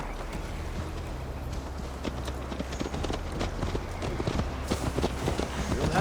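Horse hooves clip-clop steadily during a ride in Assassin's Creed Valhalla, an even trotting rhythm that stays fairly close and moderately loud over a low game ambience, with some voice audible at times.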